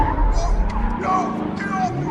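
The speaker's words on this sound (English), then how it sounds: "That's the car right there." A car skids with tires squealing in a film scene, a loud, sustained screech over low engine rumble, with faint voices mixed in.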